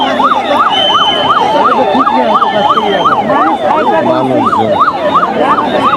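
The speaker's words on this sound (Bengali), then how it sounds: "ফায়ার সার্ভিসের একটি গাড়িতে করে শিশু সাজিদকে কর্মকর্তারা নিয়ে যাচ্ছেন।" A fire service vehicle's wailing siren rises and falls in a steady, rapid cycle, loud and close, with traffic and crowd noise underneath.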